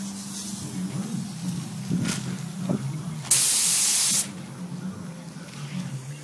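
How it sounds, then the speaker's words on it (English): Spray primer hisses from a can onto a car on an outdoor driveway in the wind. A single loud burst lasts about a second over a low rumble of wind and background noise. "we're priming outside with the wind blowing and no mask on"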